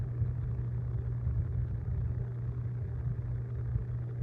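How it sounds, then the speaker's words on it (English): Three pickup trucks idle together while jump-starting a semi truck with a weak battery, making a steady low engine rumble with a constant hum and no pauses. "I got these 3 pickup trucks jump starting with cables."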